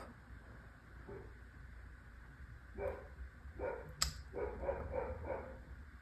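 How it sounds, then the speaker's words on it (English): Dogs barking outside, several short yips and barks clustered in the second half, moderately distant and fairly quiet over a low steady background. "If you hear my dogs barking,"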